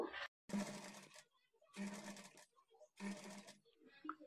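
A sewing machine stitches the side joint of a blouse in three short, loud bursts of rapid whirring, separated by brief pauses while the fabric is turned.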